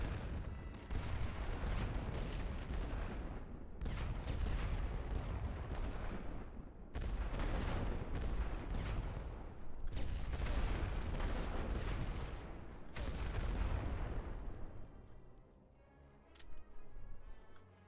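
Artillery fire in The Great War: Western Front, a World War I strategy game, comes as repeated loud booming salvos in dense bursts with brief gaps, then trails off into quieter distant rumble near the end.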